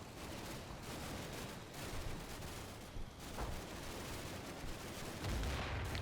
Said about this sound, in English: Starting to get some mortar fire up here as well.